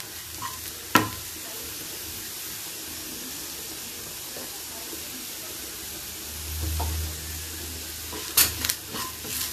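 Sambar masala with pepper powder fries in a pan for a drumstick leaves sambar, a soft continuous sizzle broken by a few sharp utensil knocks and some stirring scrapes near the end, at moderate loudness.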